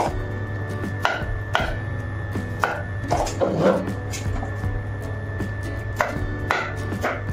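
A knife chops spiny gourd (kankada) for curry on a board, sharp chops landing at irregular intervals with a few louder strikes, close and clear over a steady low hum, with no talking.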